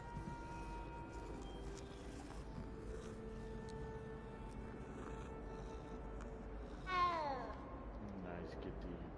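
A cat in the video game Hogwarts Legacy lets out one short meow near the end, rising clearly above a quiet, humming game soundscape.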